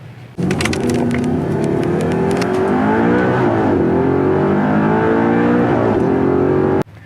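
A 2009 Audi R8 V8 supercar drives at speed, its engine droning loudly and continuously with rising and falling pitch as it accelerates and shifts, heard close from inside the car.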